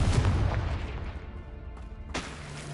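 A Confringo fire spell explodes in Hogwarts Legacy, a loud booming blast at the start that rumbles and decays, followed by a second sharp impact near the end.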